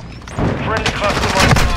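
Cluster strike explosions and a burst of gunfire in a shooter video game, loud overlapping blasts and rattling shots packed into a short dense stretch.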